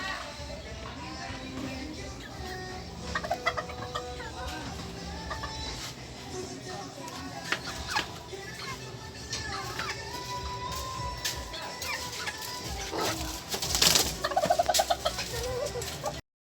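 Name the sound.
chickens and roosters in a backyard coop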